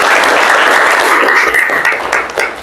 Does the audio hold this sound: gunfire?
no